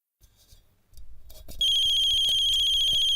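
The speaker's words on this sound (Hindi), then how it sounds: "ये फोन की बेल बजती है" A phone starts ringing with a steady electronic ringtone after some soft rustling, loud and close, continuing to the end.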